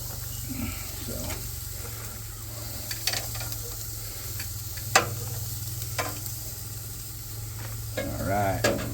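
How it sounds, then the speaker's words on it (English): Mushrooms and asparagus cook on a hot grill, giving a soft, steady sizzle over a low burner hum, with a few sharp clicks and clinks of utensils scattered through it. "we're going to throw our mushrooms over here, and we're going to get our asparagus on here to cook too."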